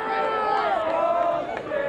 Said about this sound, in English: The crowd's not happy with that call